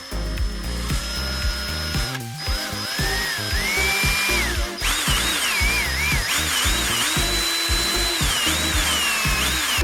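A power screwdriver whirring in short, high-pitched bursts as it backs out Phillips head screws from a JVC MX-GT700 stereo, close and loud, with pauses between runs.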